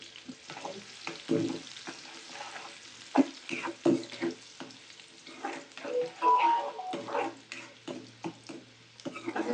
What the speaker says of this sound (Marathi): आता कांदा टाकून घेऊया.